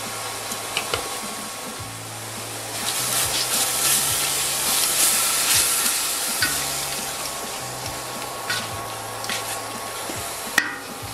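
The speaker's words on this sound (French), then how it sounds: "Une fois que les oignons sont bien sués" Onions sweating in a pan with cloves, pepper and Provence herbs for a tomato pizza sauce, a continuous hissing sizzle with occasional stirring scrapes, steady and close, no talk.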